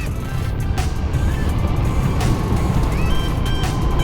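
Road traffic with trucks on a highway between Bengkulu and Padang, heard from a moving motorcycle: a constant loud low rumble of engines and wind, with vehicles passing close by.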